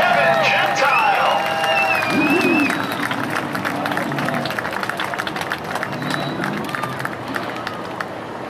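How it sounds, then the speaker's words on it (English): A grandstand crowd applauds the feature winner at a MidAm dirt-track race night, a steady wash of clapping and scattered cheers that fills the clip, with voices mixed in throughout. "Let's give a nice round of applause to Kevin Gentile."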